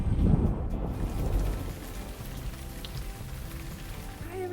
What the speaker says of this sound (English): it storms about half the year, just like this.